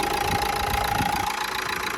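A 2011 Renault Megane with a 1.5 litre diesel engine and automatic gearbox idles steadily close by, giving a loud, even clatter with a faint whine running through it and no talk.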